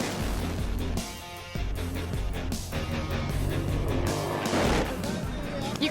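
A Nitro Harley drag racing motorcycle makes a first-round run on a drag strip with loud, raw engine blasts, and the roar cuts out and returns in bursts as an announcer talks over it.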